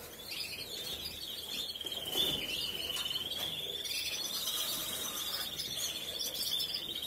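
Pet birds twitter and chirp near their bathing dish, a steady, high, thin stream of calls running throughout at low volume against a soft background hiss.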